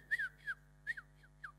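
A person whistles short, rising and falling notes in a quick irregular series, imitating a tribe's whistled language; the whistles are clear and close against a quiet hum.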